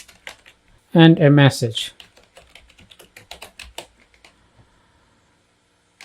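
A computer keyboard being typed on in a run of light, quick, irregular key clicks, close up and fairly quiet, with a brief spoken phrase near the start.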